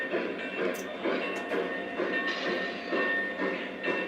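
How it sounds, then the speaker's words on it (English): A Lionel or MTH model train runs along its track, producing a steady rolling rumble with a rhythmic clickety-clack and a few faint squeaks, at moderate level, near and continuous. "I can push this train up that way a little bit further so the couplers meet up better"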